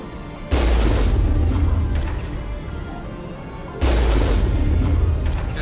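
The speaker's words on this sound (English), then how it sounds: "That's a rocket." Rocket explosions in the Mass Effect game, two loud, deep booms a few seconds apart, each followed by a rumbling mechanical roar that slowly fades.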